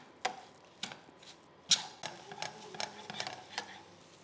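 Sweet corn being stir-fried with half a bowl of sugar, with a spoon scraping and knocking in the pan in separate strokes about every half second over a faint, soft sizzle.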